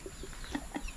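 Chicken clucking on a rural property, a few soft, short clucks at close range over steady low background noise, no talk.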